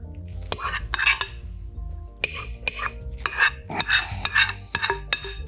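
A spoon scrapes and knocks against a bowl as macaroni salad moves from mixing bowl to serving bowl. Close, irregular clinks and wet scooping sounds.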